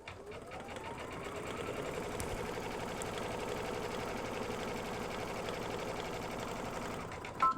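An embroidery machine stitches a candlewicking design on a pillowcase, running a steady, rapid mechanical needle rhythm close up at moderate volume, with a brief clunk near the end.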